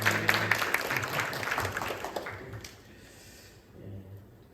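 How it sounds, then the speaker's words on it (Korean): A church congregation claps in welcome, a burst of lively applause that starts strong, thins out after a couple of seconds and gives way to a brief murmur of voices. "우리 함께 환영의 박수를 함께 합니다"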